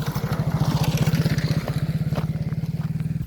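A motor running outdoors near a well, putting out a steady, rapid thumping pulse at a moderate distance, with faint background noise.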